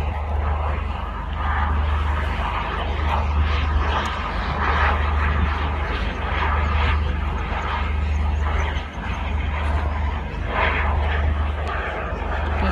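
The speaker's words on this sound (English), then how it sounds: "Vulcan bomber." A model Vulcan bomber flying at a model airshow, its engine giving a continuous loud drone throughout, with people talking nearby.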